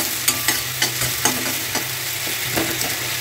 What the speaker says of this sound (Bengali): এটাকে হালকা তেলেই ভেজে সবাই